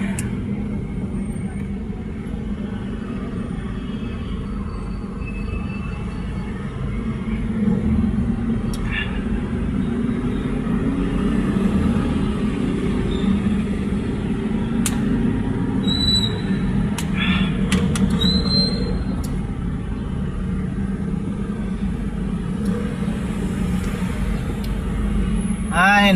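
Road traffic heard from inside a moving vehicle on a trip to Taytay: a steady low engine and road rumble fills the cabin, with a few faint higher chirps and clicks on top.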